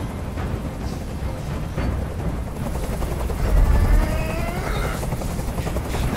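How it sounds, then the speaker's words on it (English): A helicopter hovers in the video game Detroit: Become Human, a steady low rotor rumble filling the scene with a few sharper bursts rising near the middle, loud and continuous throughout. "I can't stand that noise anymore. Tell that helicopter to get out of here."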